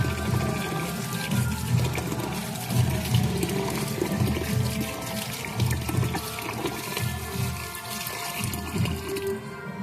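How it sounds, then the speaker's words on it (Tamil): Water runs steadily from an opened tap into a container during cleaning of dried fish powder, a continuous close splashing rush lasting throughout with no talk. "இந்த மாதிரி டேப் ஓபன் பண்ணி நல்லா தண்ணியை ஃபுல் ஆக்கிக்கணும்"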